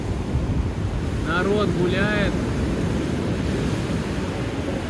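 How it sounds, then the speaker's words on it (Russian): Rough Black Sea surf rolling in at Sochi on a cool January day, a constant loud roar of waves mixed with heavy wind buffeting, while someone speaks briefly over it. "А море, смотрите, взволновалось не на шутку."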